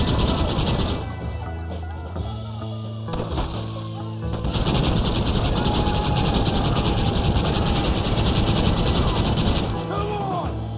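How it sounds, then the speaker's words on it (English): Gunfire from the video game Red Dead Redemption on PS4, rapid bursts of shots and rattling fire going on almost nonstop, loud and dense, with some voices mixed in underneath. "so like when I'm just shooting where they go."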